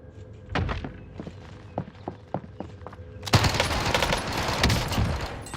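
Call of Duty Warzone gunfire: a run of sharp separate shots at first, then a sudden loud, dense burst of rapid automatic fire that carries on to the end.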